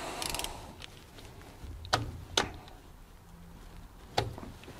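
A cheap 30 Torx bit slipping out of a rounded screw head while working on a Saab 9-5 gearbox; a few sharp metallic clicks and scrapes stand out over a quiet workshop background, alone with no talking.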